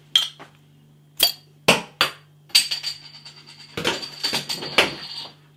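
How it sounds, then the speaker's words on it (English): An Adnams Kobold English Lager bottle is opened and poured into a glass: several sharp, separate glassy clinks and knocks, then a couple of seconds of close, fizzing, splashing pour. "let's get this beer out into a glass and see what we get"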